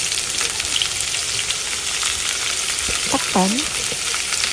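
Floured pork chop seasoned with garlic, fish sauce and calamansi fries in a pan with a loud, dense, continuous sizzle close up, while a voice briefly speaks over it.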